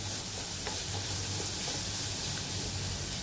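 Radish fry with grated fresh coconut and green chilli sizzles steadily in a pan while being stirred, a dense continuous frying hiss with faint scraping from the stirring, close up and without speech.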